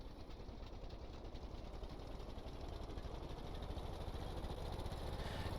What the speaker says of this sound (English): you hear our engine start to slowly increase